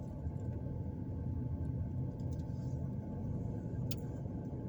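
A car drives through a neighborhood in east Montgomery, Alabama, giving a steady low engine and road rumble heard from inside the vehicle, without any speech.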